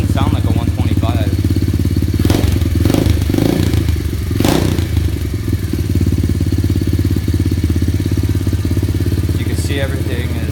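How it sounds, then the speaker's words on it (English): A 2016 SSR 125cc pit bike engine runs loud and steady close by, a beefy idle throughout with a few clattery thumps and scrapes partway through. "It starts up first kick. It's pretty loud. It sounds very beefy."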